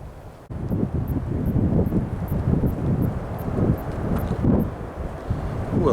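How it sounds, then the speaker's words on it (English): Strong coastal wind at Cape Foulwind near Westport on New Zealand's South Island buffets the microphone in a steady, loud, low rumble that swells and eases, with no voices. "it is a little breezy today at Cape Foulwind"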